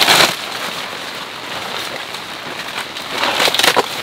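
Steady rain falls around a campground during rainy-day car camping, a dense broadband hiss that swells slightly at the start and end, with no voices.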